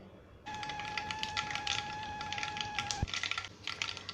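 Mustard seeds splutter in hot sesame oil for a sundakkai vathal kuzhambu, a dense run of sharp crackling pops near the pan, with a thin steady whine in the background.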